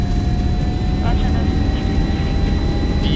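Jet airliner engines spool up during the takeoff roll in the X-Plane 11 flight simulator on a Gatwick-to-Amsterdam leg, a steady loud roar and rumble with a faint whine, with cockpit talk over it.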